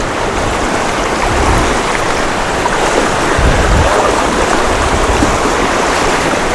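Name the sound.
river current flowing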